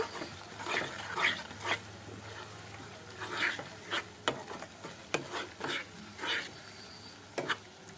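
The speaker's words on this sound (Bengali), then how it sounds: "পেঁয়াজ রসুন আদার সাথে মশলাগুলো একটু ভালো করে মিক্স করে নিচ্ছি" Onion, garlic, ginger and spices sauté in oil in a home kitchen, a quiet sizzle broken by repeated scraping strokes of a spoon stirring the pan in an uneven rhythm.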